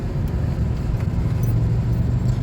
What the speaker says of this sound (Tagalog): Parang mabagal na yung usad ng ano,